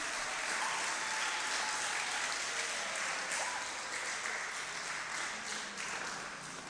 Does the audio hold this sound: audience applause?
yes